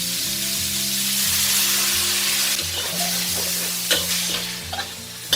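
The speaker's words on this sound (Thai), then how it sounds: "เมื่อเราผัดคั่วมาได้ครพักหนึ่งนะ ให้เราเติมน้ำลงไปเล็กน้อยค่ะ" Vegetables stir-fried in a wok for a crisp, bright green finish sizzle and hiss steadily while being tossed, with a little water added; low tonal background sounds continue underneath throughout.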